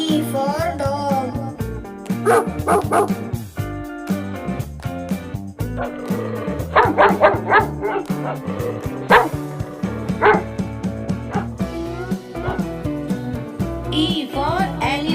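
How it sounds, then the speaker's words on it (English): A dog barks and yips in short bursts over a cheerful children's alphabet song, several quick woofs and whines mixed loudly into the playing music. "D for dog. D for dog."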